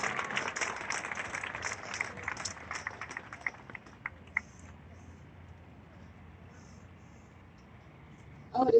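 An outdoor crowd claps for a speaker at a Black Lives Matter gathering, a scattered, fairly distant patter of applause that thins out over several seconds into quiet murmur before a sudden close rustle.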